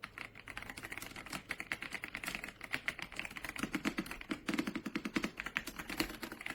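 Typing on an RK Royal Kludge R75, a compact 75% wired gaming keyboard, gives a steady run of soft, muffled, thocky keystrokes at close range, with no talking.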